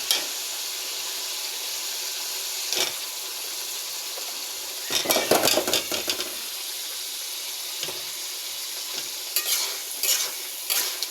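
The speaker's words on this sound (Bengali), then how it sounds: "দেখুন এখন মশলাটা ভাজা হয়ে গেছে, ভুনা হয়ে গেছে" A steady sizzle of spice paste frying in oil runs throughout, with several bursts of scraping as a spoon stirs the paste in the pan, close and clear.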